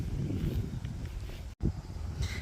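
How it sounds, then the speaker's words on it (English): Wind blowing through a Wisconsin home garden in May ahead of storms, a steady low rushing buffet with rustling, brief gusty dips and a short dropout partway through. "It is pretty windy right now"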